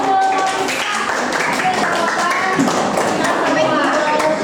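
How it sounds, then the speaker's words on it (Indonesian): Schoolchildren in a classroom clap for their classmates, a busy burst of close-range hand claps mixed with children's chatter and voices. "Beri tepuk tangan buat teman-teman yang sudah mau"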